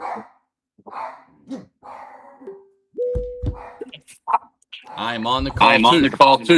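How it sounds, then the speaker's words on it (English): A dog barks in the background of a home setting during a live call, a few sharp barks mixed among speech, with a person talking over and around them. "Let me know if you can hear my dog barking in the background"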